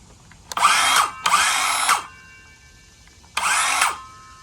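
A power drill whirs in three separate bursts while a shed is being built, two close together and a third after a pause, each loud and steady at close range.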